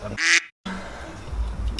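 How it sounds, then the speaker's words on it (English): A single loud, nasal quack bursts out close by in a garage during a clutch kit install on a Yamaha YXZ 1000R, followed by a brief cut to silence and then low background noise. "Duck. Did you record that?"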